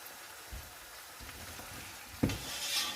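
Ginger paste and onion paste are stirred in a frying pan for rice and chicken pulao, giving a soft, close sizzle with a few scraping strokes and one sharper knock near the end, with no one talking.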